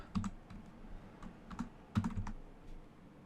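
Keys tapped on a computer keyboard in short irregular bursts of clicks, close and fairly soft, with pauses between flurries and no talking.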